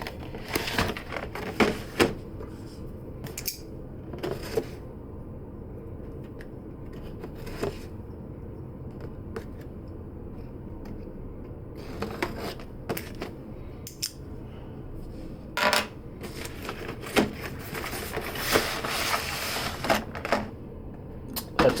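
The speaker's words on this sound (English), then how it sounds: "Remember here, it sounds like loose cards?" Loose Pokemon cards in a Marnie Premium Collection package rattle and shuffle in scattered bursts of clicking and rustling, close by, with quiet gaps between handling sounds.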